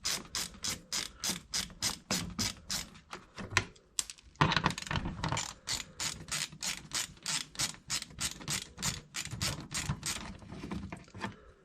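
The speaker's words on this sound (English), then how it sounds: "So we'll take that cover off, which is just 2 more 10mm bolts." A ratchet loosens 10mm bolts on an engine cover of a Toyota Kluger with a 3.5L V6 petrol engine. It gives close, steady rows of rapid clicks, pausing briefly and then resuming with no voice over it.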